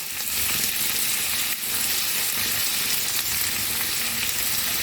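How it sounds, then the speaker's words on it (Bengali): Ingredients for egg chilli fry in a pan, a loud, continuous hissing sizzle with faint stirring scrapes mixed in and one brief dip partway through. "এই ভালো করে আমি একটুখানি ফ্রাই করবো।"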